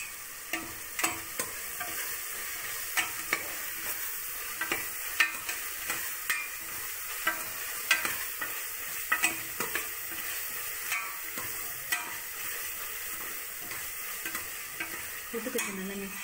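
A spoon stirs mushroom biryani masala with fresh coriander and mint in a frying pan. Repeated scraping strokes land at a fairly regular rhythm over a soft continuous sizzle, close and fairly quiet, with no talking.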